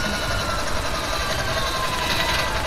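Steady, loud engine and rotor drone from a helicopter flying in a video game, continuous throughout with slight fluctuations and no talking.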